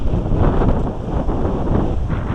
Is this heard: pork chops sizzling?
no